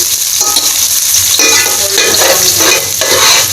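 Finely chopped onion and garlic frying in a pan for macaroni, a loud, steady close sizzle with stirring scrapes and light clinks of a utensil against the pan throughout, no voices.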